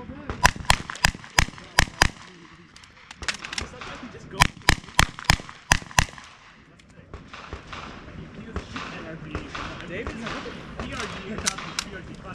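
Gunshots on a stage at a practical shooting competition: quick sharp bursts of close, loud reports in two rapid strings, followed by quieter shuffling, movement and more distant pops.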